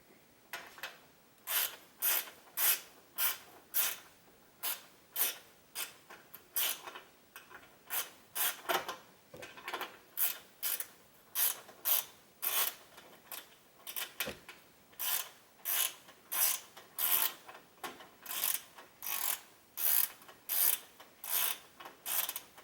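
A long bolt, about 7/16 inch, being threaded in with a ratchet on a Lawn-Boy C21ZSN commercial mower: steady bursts of rapid mechanical clicking repeat in an uneven rhythm, close and fairly loud, with no talking.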